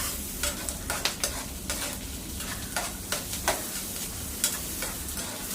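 Onion and garlic fry in a pan, a steady loud sizzle with repeated stirring scrapes and clicks throughout, close up and without any talking.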